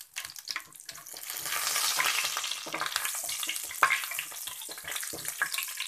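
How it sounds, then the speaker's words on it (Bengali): Dried red chillies frying in oil, a crackling sizzle that swells after a quiet start, with stirring clatter and sharp pops close by, no speech. "আর শুকনো লঙ্কা। এটা একটু ভেজে নেব।"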